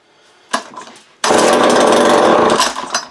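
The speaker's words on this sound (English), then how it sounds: "Think it's gonna run." A forty-year-old vintage Craftsman 22cc string trimmer, bought from a thrift store, gives a sharp pull-start cough, then fires up and runs loud and close with a raspy, steady engine roar that surges slightly near the end.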